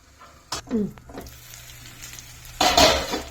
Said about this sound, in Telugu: వదిలేయకండి, అప్పుడప్పుడు కలుపుతూ ఉండండి